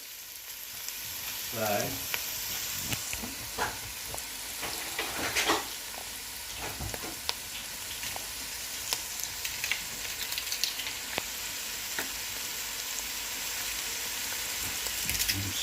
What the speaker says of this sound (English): put it in with the oil and the onions now and cook it out so you get the sweet taste